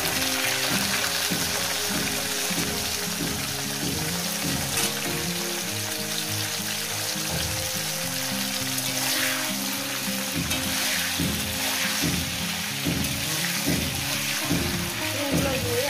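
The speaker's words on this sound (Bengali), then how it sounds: "শিমগুলো দিয়ে আমি 1 থেকে 2 মিনিট এটাকে ভেজে নেব।" Flat beans frying in hot oil with salt, a loud bubbling sizzle with rhythmic spatula stirring and knocking against the pan, close and continuous, without speech.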